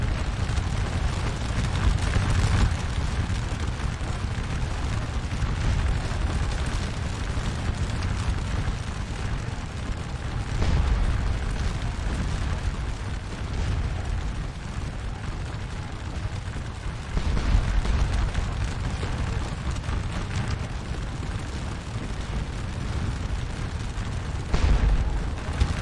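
Artillery fire in a Napoleonic battle video game at Quatre Bras, with dull booms rolling over a continuous murky rumble of distant battle for the whole stretch and occasional heavier swells.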